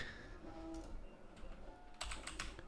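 Quick bursts of clicky keystrokes on a computer keyboard, faint and close, with a short flurry of taps near the end.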